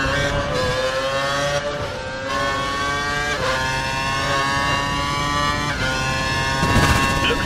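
A Formula 1 car in the F1 2012 racing game accelerates hard, its engine a loud, continuous high-pitched whine that keeps climbing through the gears, with brief dips at each gear change over about seven seconds.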